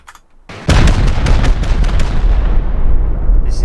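Rockets slamming into a stone bunker base wall in the survival game Rust, a sudden loud blast after a near-silent moment followed by a long rumbling, crackling roar of explosions with repeated sharp hits.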